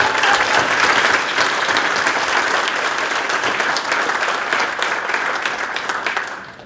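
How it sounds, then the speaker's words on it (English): Guests at a Good Scout Award dinner give a round of applause, heard as a full, sustained wash of many hands that thins out and fades at the end. "I'd like to hear a round of applause for that"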